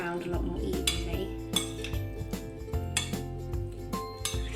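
Potato salad with herbs and mayonnaise is stirred in a bowl, with a spoon clinking and scraping irregularly against the dish over a low background hum.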